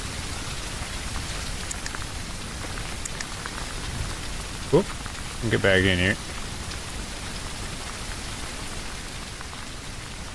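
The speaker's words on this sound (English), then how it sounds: "The blind quiets the rain sound anyways." Steady rain patters on a hunting blind during a spring duck hunt, a constant close hiss throughout, with someone speaking briefly midway.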